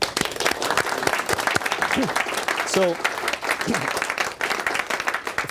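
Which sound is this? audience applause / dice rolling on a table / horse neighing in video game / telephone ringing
audience applause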